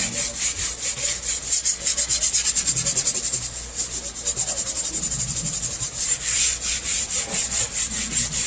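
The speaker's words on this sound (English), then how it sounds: "I just got a little sanding block here, medium grit. I'm just going to lightly go over the surface." A medium-grit sanding block lightly scuffs a side trim piece from a 1962 Mercury Comet, making steady, rhythmic back-and-forth rasping strokes, close and loud, with a brief pause near the middle.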